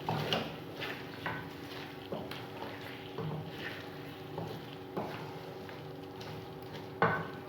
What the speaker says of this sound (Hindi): मीडियम फ्लेम पे हम इसे 5 से 7 मिनट के लिए भून लेंगे